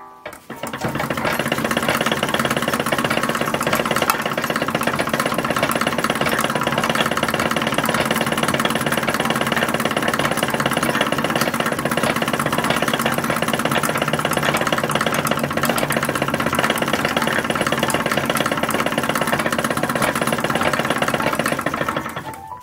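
A sewing machine stitches trim onto a silk sleeve of an 1880s bodice, running as a steady, close, loud mechanical whir that continues without a break for about twenty seconds before it stops.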